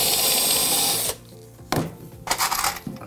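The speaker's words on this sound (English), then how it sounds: "you can drill some pilot holes from the outside" Power drill boring pilot holes into pallet wood during chair building, a steady high whine for about a second, then a pause and a few shorter, choppier bursts with knocks, close up.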